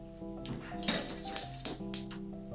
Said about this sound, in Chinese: 加入热热的榛果跟一点奶油，然后快速搅拌